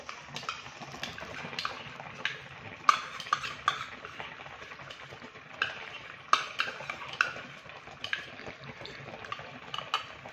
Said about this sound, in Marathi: आता आपल्याला गॅस फुल करायचा आहे आणि हे सगळं छान परतून घ्यायचं आहे दूध पूर्ण सुकेपर्यंत